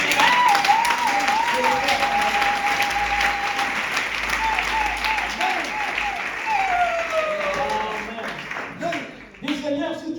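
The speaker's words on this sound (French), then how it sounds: "Applaudissez la parole." A church congregation breaks into loud, sustained applause that fills the room, while a voice carries over the clapping before it fades near the end.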